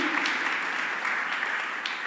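An audience at a panel event claps continuously, a dense, even burst of applause filling the short stretch without pause or voices.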